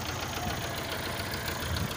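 A tractor engine idling steadily just after starting, a continuous low rumble with a faint knocking texture, close by and alone.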